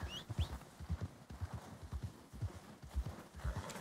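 Horse hooves clop in Red Dead Redemption 2, a steady, evenly paced rhythm of close, muffled hoofbeats as the horse moves along without pause.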